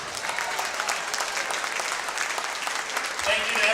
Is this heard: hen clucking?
no